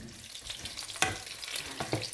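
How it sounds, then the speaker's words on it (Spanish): Garlic fries in a pan, hissing and crackling steadily up close, with a couple of louder scrapes from stirring and no voices. "vamos a freír los ajitos"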